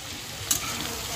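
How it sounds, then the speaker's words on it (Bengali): Spinach fries with green chillies and tomato in a pan, giving a soft steady sizzle with brief stirring scrapes of the spatula, close and moderately quiet. "শাকটা দিয়ে শাকটা ভালো করে ভাজা করবো"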